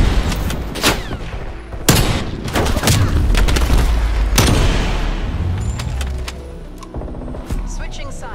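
SMG gunfire in the video game Black Ops Cold War, loud bursts and sharp shots with booming impacts, close and punchy, while someone talks over the action.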